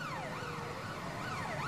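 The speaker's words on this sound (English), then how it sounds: "The ambulances are coming." An ambulance siren wails continuously in rising and falling sweeps at an emergency rescue scene, moderately loud and steady throughout with no talking.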